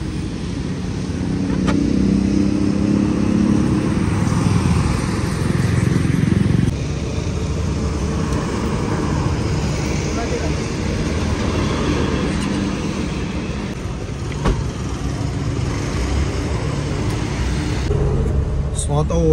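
Ola cab ride on the way to the airport in Goa, heard from inside the car: a steady rumbling engine and road noise throughout, loud and continuous, with a voice talking over it.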